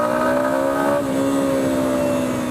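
Yamaha XT250 dual sport motorcycle engine droning loud and close while riding at about 30 mph, a steady buzzing tone that dips briefly in pitch as the rider shifts, then holds even.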